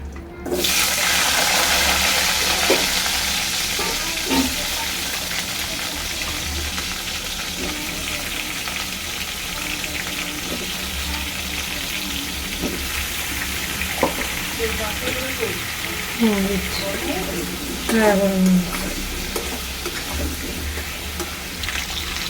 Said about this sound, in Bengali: তো আমি কড়ার মধ্যে ডাইরেক্ট আলু দিয়ে দিচ্ছি